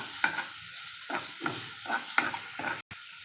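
Finely chopped onion sautéing in oil in a pan for Mumbai-style pav bhaji, with a spatula scraping and stirring in a steady rhythm of about six strokes over a soft sizzle, close and alone.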